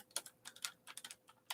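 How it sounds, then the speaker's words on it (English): Faint, quiet typing on a computer keyboard during an ASMR livestream: light, irregular clusters of key clicks, close but soft, with no talk. "Do like maybe very faint"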